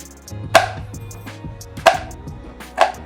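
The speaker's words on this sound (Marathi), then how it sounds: "आता हे जे ड्रायफ्रुट्स आहेत काजू बदाम पिस्ता हे आपल्याला बारीक चिरून घ्यायचे आहेत" A knife finely chops cashews, almonds and pistachios on a board for dry-fruit ladoos, giving three crisp, separate strikes about a second apart over a low background hum, with no voices.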